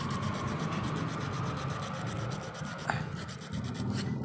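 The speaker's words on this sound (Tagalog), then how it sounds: "Yan, lilihain lang natin." Steady, close rasping of sandpaper rubbing back and forth against the small bushing of a Panasonic F-409DS desk fan, continuous and fairly quiet.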